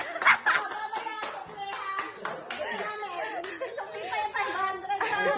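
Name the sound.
people clapping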